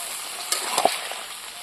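Bottle gourd curry sautéing in a pan, cooked village style, gives a soft steady sizzle with a few faint scraping stirs.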